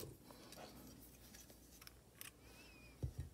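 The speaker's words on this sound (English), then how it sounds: "Here on this side, I'm going to cut my yarn." Scissors snip through crochet yarn near the end, two quick close cuts after a quiet stretch of faint handling noise and light rustle.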